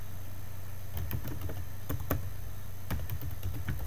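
Keys tapped in short irregular bursts on a computer keyboard while a note is typed, fairly faint over a steady low hum, with no talking.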